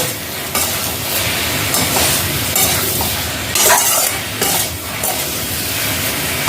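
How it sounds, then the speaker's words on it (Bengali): Vegetables including cauliflower frying in a pan for a rui fish curry, a steady loud sizzle with repeated scraping stirs of a spoon against the pan throughout, and no voices. "এটাকে ভালো করে ভেজে নিচ্ছি হালকা ভাজা ভাজা হয়ে গেলে"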